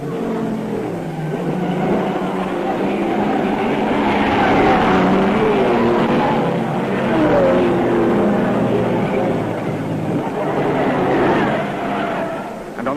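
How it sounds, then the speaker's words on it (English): 1953 Le Mans racing cars, Jaguars and Ferraris, lapping the circuit, heard as a steady engine roar that swells and fades as cars pass, with a faint announcer talking over it. "Second time round, Villarese leads, with Moss right on his tail."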